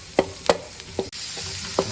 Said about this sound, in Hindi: इसको एक बार हिला देना, हिला के एक तरह कर देंगे रोस्ट।